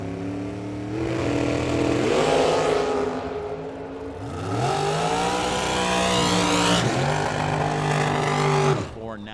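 A Camaro race car roars loudly past on a drag strip, engine revving in rising and falling sweeps with a gear change midway, under continuous trackside announcer talk.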